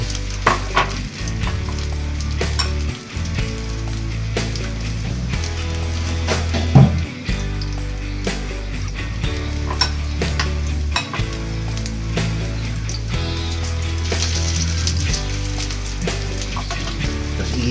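Ground chicken balls with carrots sautéed in a pan for bola-bola with sotanghon, a loud continuous close-up sizzle punctuated by repeated scraping stirs and occasional clanks of a utensil against the pan.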